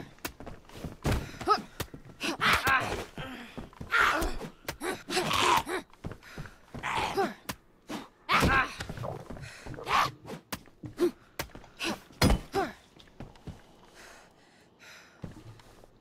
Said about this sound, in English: There's this many zombies in here.